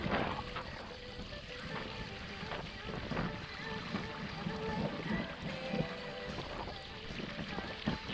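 A motorboat cruises along on a fishing trip, its engine a steady, muffled drone under strong wind buffeting and water wash, with people talking over it.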